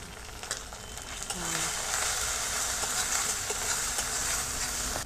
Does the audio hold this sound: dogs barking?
no